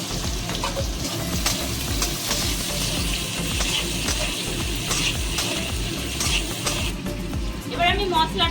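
Chopped garlic, green chili and four onions fry in oil for egg chilli, making a loud, continuous close-up sizzle with stirring noises and a brief watery bubbling near the end.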